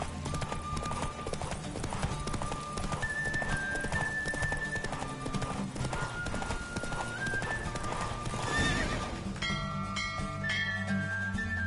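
Rapid rhythmic hoofbeats of a galloping horse in The Witcher 3: Wild Hunt, steady and close, with game music and a brief whinny-like sound late on.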